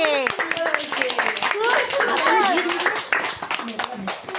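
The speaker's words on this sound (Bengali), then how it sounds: "হাততালি" Guests at a birthday party clap their hands together in a rhythmic patter, close and lively, while children and adults sing and talk loudly over the claps.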